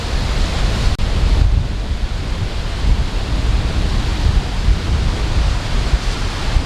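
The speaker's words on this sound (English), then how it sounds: "Just so you can see how windy it is" Strong wind roars steadily into the microphone on Surya beach, a dense rumbling buffet mixed with the broad wash of surf, loud and continuous.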